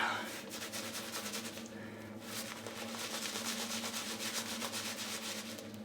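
Boar bristle shaving brush working Crowne & Crane Palo Santo lather on a face: close, steady rhythmic scrubbing and swishing strokes, loud and continuous, with no talking over it.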